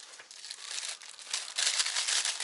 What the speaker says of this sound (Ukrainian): Вже приготував ножиці, щоб було зручніше. Тож, розпаковую.